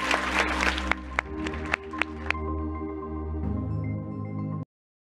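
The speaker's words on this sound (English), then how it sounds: "So a round of applause to all our mayors" Applause for the mayors at a city conference and mayors forum rises in a brief burst of clapping with a few sharp claps, then gives way to a lingering hum before the sound cuts to silence.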